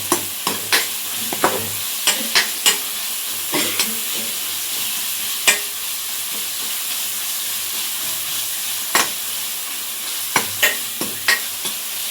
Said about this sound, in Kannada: ಹಂಗೆ ಕೈಯಲ್ಲೇ ಫ್ರೈ ಮಾಡ್ತಾ ಇರಿ.